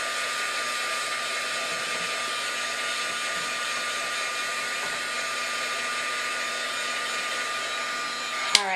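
Hair dryer blowing steadily to dry a craft project for a mini album's faux varnished frame, a constant loud whooshing hum with a small click at the end, no talk.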